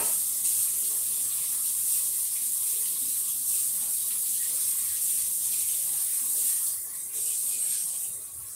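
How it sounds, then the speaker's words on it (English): Water from a kitchen tap runs steadily as a whisk is rinsed under it, a loud, continuous hiss and splash close by that eases slightly near the end, with no talking. "I gotta clean the whisk"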